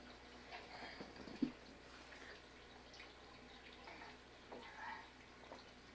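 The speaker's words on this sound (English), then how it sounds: "there's the water fountain" At Teotihuacan, a water fountain runs with a faint, steady trickle and splash, quiet and somewhat distant, with a brief knock and a few soft voices passing over it.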